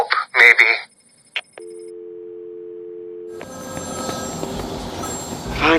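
A phone rings with a steady electronic tone inside a nightclub in Batman: Arkham City, sounding alone at first before game music and crowd noise swell around it; a voice is heard earlier.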